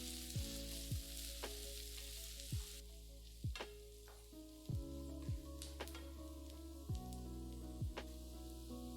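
Chopped onion, curry leaves and green chillies sauté in hot oil in a pan for a Kerala okra stir-fry, a steady close sizzle broken by several sharp spatula scrapes and taps against the pan.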